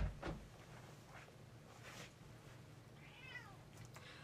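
A cat meows softly a few times at a distance, with a rising and falling cry toward the end over low background hum.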